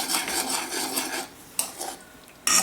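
Caramel being stirred in a pan just off the flame after a teaspoon of vanilla goes in, with steady scraping and rubbing of a utensil against metal, a brief lull, then a sharper clatter at the end.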